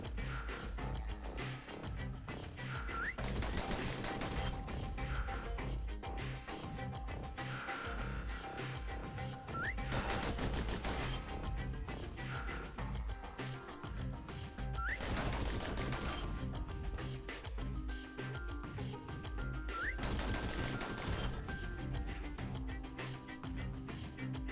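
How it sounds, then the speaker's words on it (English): Pistols in the video game Bastion firing in quick bursts, sharp cracking shots repeating over a steady music bed, with short clusters of rapid fire spaced every few seconds. "pistols could spit out rounds just as quick as you could pull the trigger"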